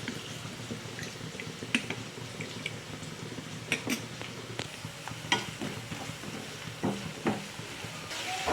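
Onions frying in a pan for chana chilli, a continuous crackling sizzle with intermittent sharp pops and stirring scrapes, close and steady without talking.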